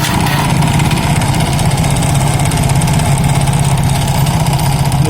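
A Honda Soul GT scooter engine, which had only whined on the starter, runs steadily at a close, loud, buzzing idle for several seconds with no talking.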